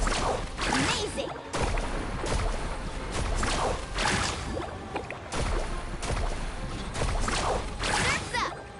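Water splashing and sloshing as a character surfs and carves across waves in the video game Genshin Impact, steady broadband rushing with repeated surges, under game voice lines and music.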